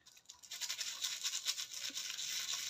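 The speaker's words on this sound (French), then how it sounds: "Vous venez frotter avec votre brosse à dents." An old toothbrush scrubs a metal cutting die for paper bows, a quick rhythmic bristly scratching that repeats back and forth close up, fairly soft and steady with no voices.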